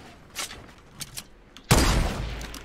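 A sniper rifle shot in an online duos shooter match: one loud, sharp crack that rings on, after a few fainter distant shots.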